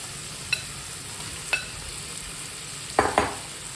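Chana dal being sautéed in a pan over the heat, a soft steady sizzle under a few sharp spatula scrapes and clinks spaced out, with a louder double scrape near the end.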